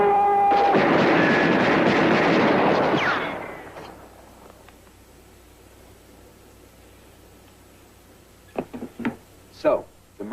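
Gunfire at a police shooting range: a sustained loud burst of overlapping shots for about three seconds, fading out, then quiet with a few sharp shorter reports near the end.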